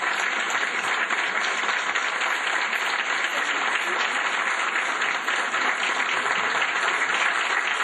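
Audience applause at a political caravan opening event in São Paulo, dense and steady clapping from a large crowd that fills the whole stretch without a break.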